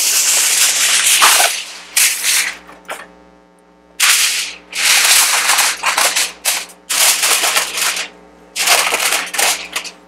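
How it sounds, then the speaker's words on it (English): Aluminum foil pulled off a roll and crinkled by hand while prepping St. Louis ribs for a Masterbuilt mini smoker, loud close bursts of rustling and crumpling separated by short quiet pauses, with a steady low hum underneath. "we'll grab another chunk of aluminum foil here"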